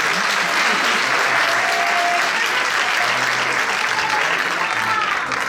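Sustained applause from a crowd at a high school graduation ceremony, dense and steady clapping throughout with no pauses.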